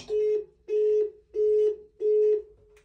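A telephone beeps inside a stuck Výtahy Bohumín elevator in Orlová, Czechia. Four even, loud tones repeat about every two-thirds of a second in a small, quiet space, and a faint click follows.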